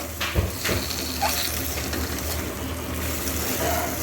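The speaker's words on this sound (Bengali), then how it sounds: "সেই ঢ্যাঁড়সগুলোকে পুরোটাই এর মধ্যে দিয়ে দিলাম দিয়ে খুব ভালো করে নাড়াচাড়া করে এর সঙ্গে মিশিয়ে নেব" Fried okra is stirred into sizzling masala in a pan, giving a steady hiss with a few scraping stirs and clinks near the start, close and continuous without talk.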